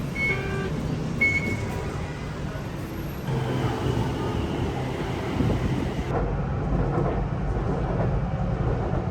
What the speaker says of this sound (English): Now we're just taking a quick ride on the BTS over to the Asok station to Yami's favorite mall.